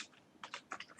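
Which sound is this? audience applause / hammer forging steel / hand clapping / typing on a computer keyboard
typing on a computer keyboard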